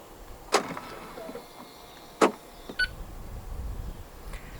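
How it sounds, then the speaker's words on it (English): A couple of sharp clicks followed by a brief mechanical thunk of a 2023 Jaguar I-PACE electric SUV locking via its door handle button, against a quiet outdoor background with faint low rumble. "To lock the car, press the button on any of the 4 door handles."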